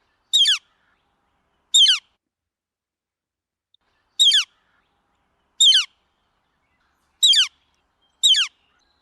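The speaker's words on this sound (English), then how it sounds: "And this is the song of a northern flicker." A northern flicker, a woodpecker relative, gives six short, sharp, high-pitched calls. The bird sounds close and clear, and quiet pauses separate the uneven calls.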